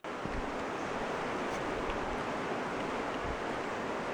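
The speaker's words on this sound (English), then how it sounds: "Okay, sound of the river. It's nice." The Broad River along a greenway in Boiling Springs, North Carolina, flows as a steady, broad hiss of moving water, constant and unbroken, heard alone at moderate distance.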